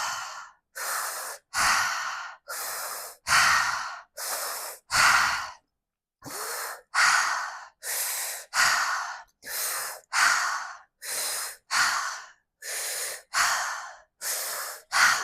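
Deep yoga breathing in and out through the nose during a vinyasa flow session, a regular series of about thirteen loud, close breaths in a slow, even rhythm with short pauses between.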